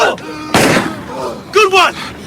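A single sharp pistol gunshot cracks out in a war audio drama set in Afghanistan, loud and close, with tense voices before and after it.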